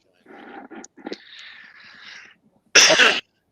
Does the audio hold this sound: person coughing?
yes